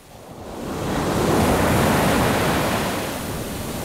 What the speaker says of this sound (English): a sudden wave has swept over me and dragged me further into the water